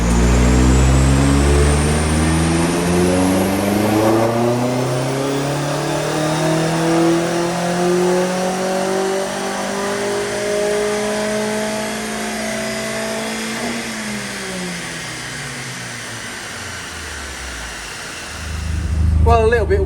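A Vauxhall Astra VXR rated around 185 brake horsepower revs hard on a rolling road dyno, its rough, diesel-like engine note climbing steadily in pitch for about thirteen seconds. The note then drops away and a fresh loud burst surges up at the end.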